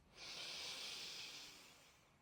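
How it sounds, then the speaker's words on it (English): One deep inhale drawn in through the nose, a close, soft airy rush that swells briefly and fades in a quiet room. "Inhale through the nose."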